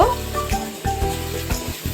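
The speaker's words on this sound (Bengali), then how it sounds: "আলু আর পেঁয়াজটা সুন্দর করে একটু ভেজে নেব" Steady sizzling of potatoes and onions frying in oil, with a few clinks and scrapes of a utensil stirring the pan at a close, even level.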